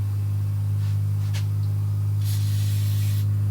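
Steady hissing of an aerosol cleaner sprayed onto a VW 09G transmission valve body close by, with brief louder bursts over a constant low mechanical hum.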